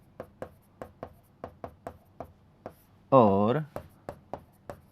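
Notes being written by hand: short, evenly spaced strokes tap out a steady rhythm, broken midway by one brief spoken word.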